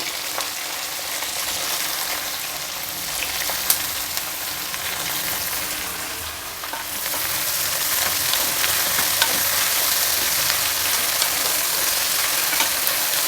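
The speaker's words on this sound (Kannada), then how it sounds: "ಬದನೆಕಾಯಿನ ಇಲ್ಲಿ ತುಂಬ ಹೊತ್ತು ಫ್ರೈ ಮಾಡೋಕ್ಕೆ ಹೋಗಬಾರ್ದು" Brinjal pieces fry and get stirred in oil inside a pressure cooker while vangibath is being made, giving a continuous close sizzle with soft scraping stirs that grows a little louder partway through. No one speaks.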